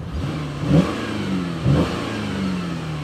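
A 2014 Chevrolet Impala LTZ's 3.6-liter V6 revs twice in quick succession, each blip rising and falling smoothly before settling back to a steady idle hum, close and clear with no talk.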